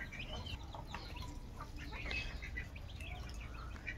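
Chickens clucking around a rural home with ducks nearby, soft scattered clucks and calls at a distance over a steady low background hum.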